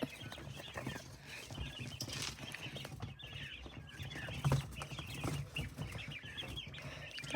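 Pet quails in an enclosure flutter and scrabble frantically, with repeated soft chirps and scuffling thumps mixed into a busy, fairly quiet background.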